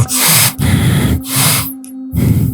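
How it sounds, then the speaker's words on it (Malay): Loud, heavy breathing with forceful snorts, four long harsh breaths separated by short pauses, very close to the listener. "Dia terdengar bunyi orang bernafas dengan nada yang kuat. Bernafas sambil mendengus."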